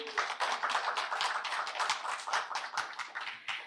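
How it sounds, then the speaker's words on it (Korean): A small audience at an Incheon social welfare research presentation claps for an introduced guest, a modest group of distinct, fairly quick hand claps, close but soft, tapering slightly at the end. "큰 박수 부탁드립니다"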